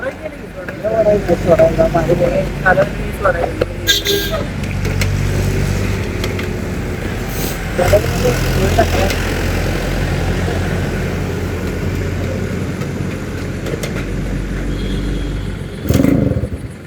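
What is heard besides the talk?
Yamaha RX 100 motorcycle engine starting, stalling, kick-starting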